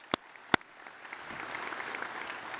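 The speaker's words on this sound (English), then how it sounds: "a round of applause for them" Two sharp, close claps, then applause swelling from a hall audience at a DAV business session, growing denser and steadier as it continues.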